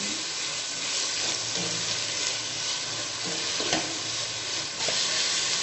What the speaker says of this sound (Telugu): మీరు 1/2 స్పూన్ సాల్ట్ యాడ్ చేసి మంచిగా మిక్స్ చేయాలి. టమాటోస్ అంతా స్మూత్గా అయ్యే వరకు మిక్స్ చేస్తాం.